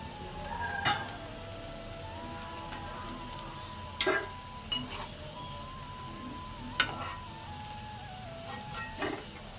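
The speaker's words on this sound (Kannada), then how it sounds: "ಈ ರೀತಿ ಚೆನ್ನಾಗಿ ಫ್ರೈ ಮಾಡಿಕೊಂಡು ತಗೋಬೇಕು." Baby potatoes fry to golden in hot oil, giving a faint steady sizzle with a few sharp clinks of a utensil against the pan scattered through it.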